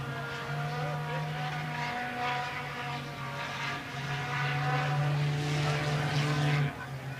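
A four-cylinder modified race car laps a speedway at Route 66 Motor Speedway, its engine a steady nasal drone that rises and falls as it comes off the turn, heard at moderate distance.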